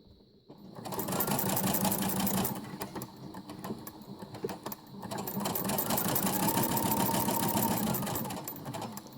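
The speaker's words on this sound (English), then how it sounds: "I'm just going to stitch right on that line all the way across." A sewing machine stitches a straight seam across a tote bag in two long runs of rapid, even mechanical whirring, close and loud, separated by a brief pause.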